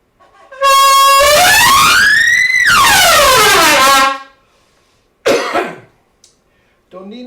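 A trumpet plays its first notes without warm-up: a loud, sustained tone slurs up and back down in one smooth sweep, followed by short, quieter bursts after a pause.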